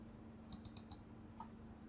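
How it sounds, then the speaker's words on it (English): Computer mouse clicks adding three buttons: a quick cluster of about four crisp clicks, then one softer click a moment later, all quiet against a faint steady hum. "So we click the button 3 times."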